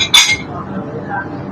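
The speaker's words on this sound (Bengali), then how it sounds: "এখন নাড়তে থাকবো।" A utensil clinks against a pan once as fried chicken and sauce are stirred, followed by a soft, low shuffling of food for a moment, close by.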